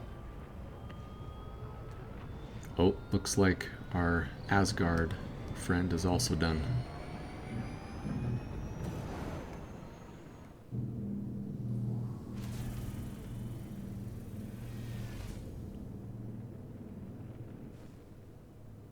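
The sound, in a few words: spaceship engines running, from video game Star Citizen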